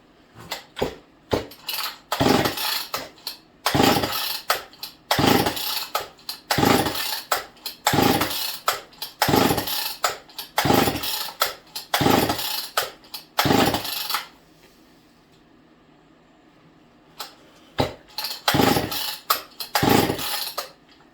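Repeated sharp pulls on the recoil starter of a Homelite XL922 Super chainsaw, a dozen or so rasping zips in a steady rhythm, close and loud, with a brief quiet pause before more pulls.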